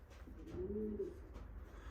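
Pigeons coo softly in a loft, a low throaty coo rolling once through a quiet background hum, faint and close, with no talking.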